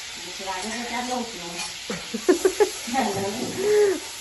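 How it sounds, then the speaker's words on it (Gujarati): Hot oil hisses and sizzles steadily in the background as vegetables are tempered, while people talk over it. "શાક વઘારો."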